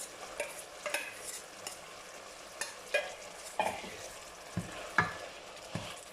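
Thai green curry with chicken and coconut milk being stirred in a pan, with irregular scrapes and taps of the utensil over a soft bubbling sizzle, close and moderately quiet.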